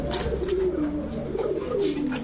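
Prince Kamargar pigeons, a male and a female, coo close by in a few throaty, rolling calls that rise and fall over a steady background.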